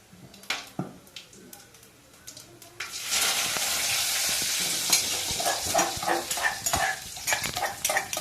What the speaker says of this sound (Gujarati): તો આપણે નાખી દીધો છે લીમડો અને આદુ લસણ અને લીલા મરચાં અને ટમેટા અને ડુંગળી